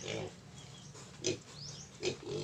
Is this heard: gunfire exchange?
no